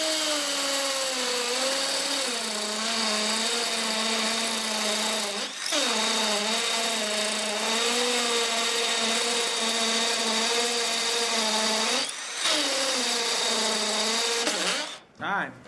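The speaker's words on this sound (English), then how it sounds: "This sounds like a real drill." A 12V cordless hammer drill with a 3/8 inch bit drills masonry, whining steadily at high speed, loud and close, grinding continuously with a couple of brief dips before stopping at the end.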